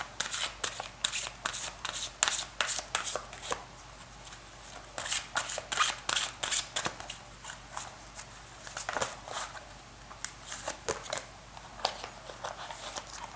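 Tarot cards shuffled by hand during a reading, a long run of crisp riffling and slapping bursts in quick irregular clusters, close and fairly loud, with no talking over them.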